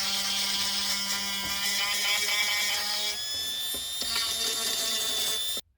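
Dremel rotary tool carving hardened putty on camper fridge shelves, a high whining buzz that holds steady then shifts pitch as it bites into the material, close and loud, cutting off abruptly at the end.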